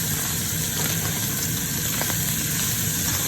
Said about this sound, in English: Just saute everything nicely.